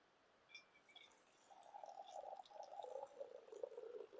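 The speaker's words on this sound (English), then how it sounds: "Whenever you can, always pour your tea from on high" Tea poured from a height into a canteen cup outdoors in damp weather, a faint steady trickle that builds over a few seconds against quiet outdoor ambience, with a couple of small clinks early on.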